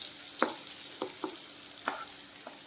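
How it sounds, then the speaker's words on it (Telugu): Pieces of liver fry over a low flame in a soft, even sizzle, with several light clicks of a utensil stirring them. "ఇలా చాలా లో ఫ్లేమ్లో పెట్టుకొని ఫ్రై చేసుకోవాలి."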